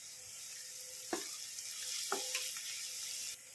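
Vegetables being stirred and half-cooked in a pan give a steady sizzle, with a few sharp utensil scrapes and taps against the pan.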